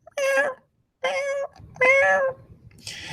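A cat meows three times in clear, drawn-out cries separated by short pauses, close and loud, with some faint background noise.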